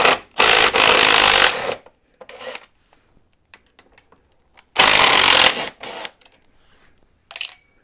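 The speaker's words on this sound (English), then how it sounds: "it's time to unbolt everything that's connected to the throttle side fork leg" Power tool loosening Torx T30 bolts from the throttle-side fork leg of a BMW F850GS motorcycle, in two loud bursts of whirring about two and a half seconds and one second long, each followed by shorter spurts and quiet clicks.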